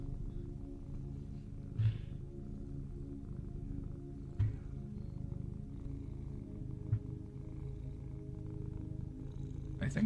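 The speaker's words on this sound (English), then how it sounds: "White noise, cat purring," A cat purrs close up in a low, continuous rumble, with a few faint clicks and breaths scattered through the steady drone.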